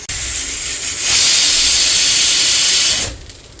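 Pointed gourd (potol) dropped into hot oil in a pan: a sudden loud, bright sizzling hiss that holds for about two seconds, then dies back to a quieter bubbling.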